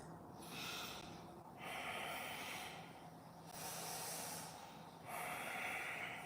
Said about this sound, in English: Final breath in. Good. Exhale out.